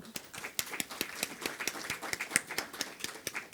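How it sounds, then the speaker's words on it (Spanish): Audience applause for a doctor after her talk on preventing early neonatal group B streptococcus infection: a steady patter of fairly light, distant-sounding claps from a modest crowd, with no voices. "la despedimos con fuertes aplausos, por favor"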